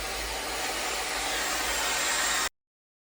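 A hair dryer runs at full speed while drying curly hair, a steady loud broadband whoosh that holds evenly for two and a half seconds and then cuts off abruptly.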